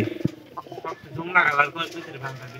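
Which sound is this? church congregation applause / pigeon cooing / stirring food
pigeon cooing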